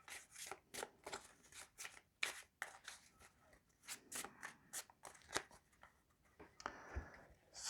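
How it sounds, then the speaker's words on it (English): Crisp, rapid riffling of a Pokémon card deck, several quick shuffle bursts in a row at close range, with no talking. "give the deck a quick shuffle"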